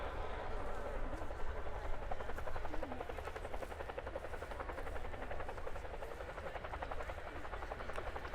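An RAF Chinook HC.6 twin-rotor helicopter performing at the RIAT airshow throbs with a loud, continuous rotor chop and engine whine, steady throughout, while a voice talks faintly over it.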